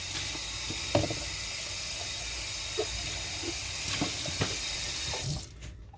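Water from a kitchen tap runs steadily into a sink as a cup is rinsed, a continuous close hiss with a few soft clinks and knocks, then the flow cuts off near the end.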